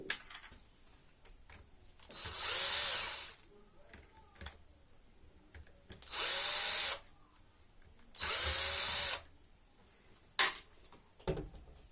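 A power driver whirs in three bursts of about a second each as it backs screws out of a 1/5 scale Baja RC car, separated by quiet handling clicks and small taps close by.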